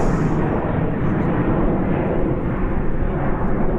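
Air France airliner performing a go-around at Birmingham Airport, a loud, close, continuous roar of jet engines at high power filling the whole stretch.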